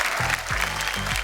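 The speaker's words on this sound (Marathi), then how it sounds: "त्यामुळे एकदा जोरदार टाळ्या तुमच्या सगळ्यांसाठी झाल्या पाहिजेत" A studio audience claps loudly at a Marathi television show, a dense, continuous burst of applause over a sustained musical tone.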